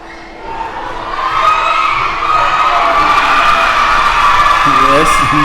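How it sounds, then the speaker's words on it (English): A crowd roars and cheers at a primary school boys' football match, a loud sustained wash of shouting and whoops that swells and holds, with children's yells rising through it. "You're hearing the crowd roar."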